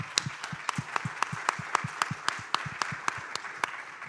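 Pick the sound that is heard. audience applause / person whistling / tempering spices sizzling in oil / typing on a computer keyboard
audience applause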